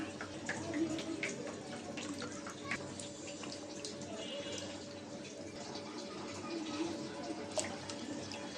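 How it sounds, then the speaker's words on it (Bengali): Beef trotters are washed in water in a kitchen, with continuous splashing and running water throughout and faint rattling and handling noises. "তো পায়াটা ভালো করে ধুয়ে নেই"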